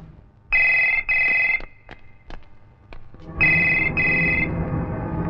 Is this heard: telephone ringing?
yes